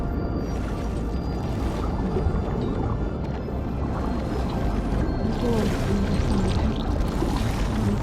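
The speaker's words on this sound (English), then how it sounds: "Oh, there's a current of water." A current of flowing water rushes and gurgles steadily in the ruins of Las Vegas in Horizon Forbidden West. The water sounds loud and close, with a continuous churning wash and faint tones above it.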